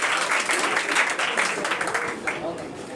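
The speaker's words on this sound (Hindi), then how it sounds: "तो जोरदार तालियों के बीच स्वागत कीजिए आकाश का।" An audience at a school board matriculation exam prize distribution ceremony applauds a student being welcomed, a continuous wash of clapping with voices mixed in.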